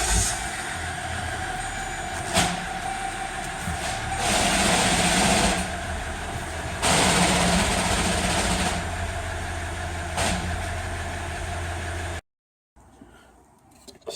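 A car engine runs steadily after start-up during a DIY repair of a leaking, cross-threaded power steering pressure pipe, a loud continuous hum and rumble with two surges in level, then cutting off abruptly near the end.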